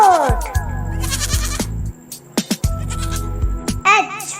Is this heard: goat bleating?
yes